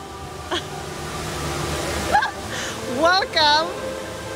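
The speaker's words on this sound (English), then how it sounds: "Welcome to the largest indoor waterfall in the world." The world's largest indoor waterfall at Singapore's Changi Airport roars as a steady rushing wash, while people's voices rise over it near the end.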